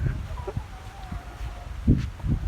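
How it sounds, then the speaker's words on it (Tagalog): Fighting chickens cluck softly in a few short, scattered bursts at a coop, faint and close against low background noise. "Oh, so these are fighting chickens, right?"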